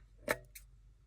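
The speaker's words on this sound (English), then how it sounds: "Grab my scissors and trim." Scissors make a single quick snip trimming paper at the edge of a decoupage hat rack project, followed by a fainter second cut, close and short in a quiet room.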